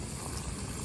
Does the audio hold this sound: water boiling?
yes